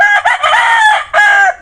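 A gamecock of Pakistani breeding crows loudly at close range: one long, strained crow, then a shorter second burst.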